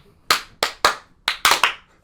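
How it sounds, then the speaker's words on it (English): Six sharp hand claps at the start of a podcast recording, close and dry, spaced irregularly, with the last two landing in quick succession. "Sync clap."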